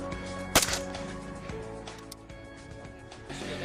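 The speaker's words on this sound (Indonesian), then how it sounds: "Sebanyak 3 anggota pun bergiliran untuk latihan menembak dengan pengawasan dan arahan pelatih." One sharp gunshot rings out during target shooting practice at a range, firing at targets 30 meters away from prone and seated positions, followed by a fainter echo and background noise with no other shots.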